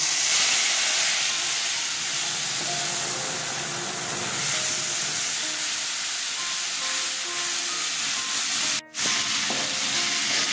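Ginger, chili and tomato paste fry in oil with bay leaf, dried red chili and cumin, producing a loud, steady sizzle and hiss that runs throughout, broken briefly near the end.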